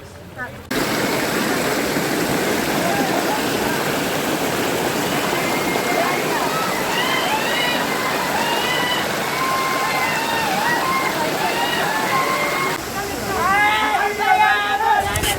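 A steady, close rush of water pours without pause at the Kondapalli waterfall, a dense broadband roar filling the whole stretch, with high chirping calls and faint voices rising over it, busier near the end.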